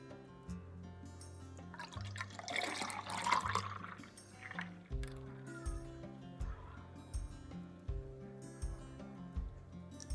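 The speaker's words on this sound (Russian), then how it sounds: "Наливаем." Milkshake poured into a glass at a countryside dacha, a brief gurgling liquid rush that swells mid-clip over steady background music, then fades back under it.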